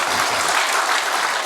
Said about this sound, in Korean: 그럴 때는 박수 한번 해주시면 좋을 것 같습니다.